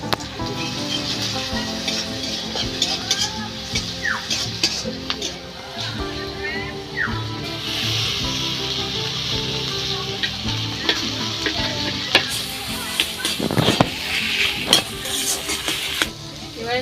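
Potatoes with turmeric and red chilli powder fry in a kadai while being stirred, giving a continuous sizzle with scraping and clinking of the spoon against the pan, close and steady throughout.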